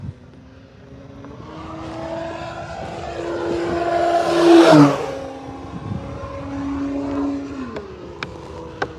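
Electric motor of an E-flite Carbon-Z T-28 2.0m RC plane in flight, a steady whine that rises and swells to a loud close peak mid-clip as it passes, then falls away and settles into a quieter hum.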